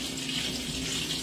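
Water is poured into a cooking pot while making sothi with ponnanganni greens: a close, steady, continuous splashing rush with no talk over it.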